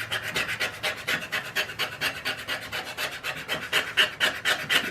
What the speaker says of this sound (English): I've got a scraper blade, and I'm just going to try to scrape any of,